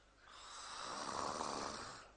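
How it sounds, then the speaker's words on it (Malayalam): One long, quiet snore from a sleeping person, a single rasping breath that swells and then fades over about two seconds. "ഈ കണ്ട നേരം മുഴുവൻ കൂർക്കം വലിച്ചിരുന്നത് നീ തന്നെയല്ലേ"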